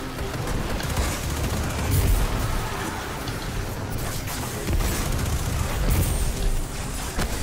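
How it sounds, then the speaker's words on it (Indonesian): Explosions and gunfire in a video game: a dense, continuous barrage of loud booms and shots with no letup across the whole stretch. "Buset, meledak semua tuh."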